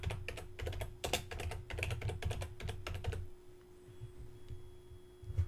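A computer keyboard being typed on for a search entry, a quick run of crisp clicking keystrokes for about three seconds, close and clear, then falling quiet with only a faint steady hum.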